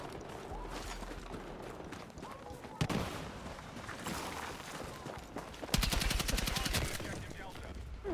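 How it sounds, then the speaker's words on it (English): Heavy gunfire and explosions in Battlefield 6 gameplay, a player firing RPGs: sustained rapid bursts crackle throughout, with sharp blasts near the three-second mark and a dense, loud volley just before six seconds. "This dude's just walking around shooting people with RPGs."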